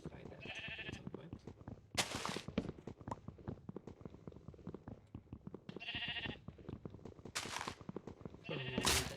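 Sheep in Minecraft bleating in short nasal bursts, several calls spaced across the clip, mixed with footsteps and game sounds in the background.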